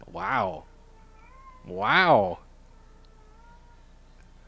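A pet cat calls twice, nearby, in drawn-out meows roughly a second and a half apart, the second louder and longer, with a brief spoken exclamation between them.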